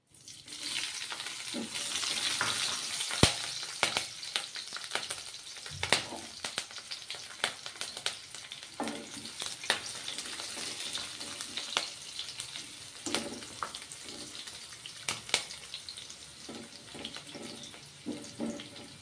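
Whole spices fry in a pan with green chillies: cinnamon, cloves, star anise and cardamom. A dense, continuous sizzle crackles throughout, with frequent sharp pops and occasional stirring clatter close by. There is no speech.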